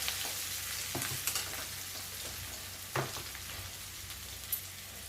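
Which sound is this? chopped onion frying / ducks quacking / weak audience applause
chopped onion frying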